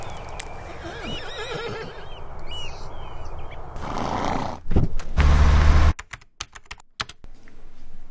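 A horse neighs in a few quick, high whinnies early on, then the sound shifts to rumbling, clattering noise and sharp clicks, all moderately loud with no talk.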